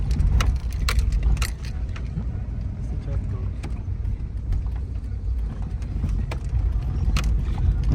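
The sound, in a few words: car driving through a village toward Panjshir gorge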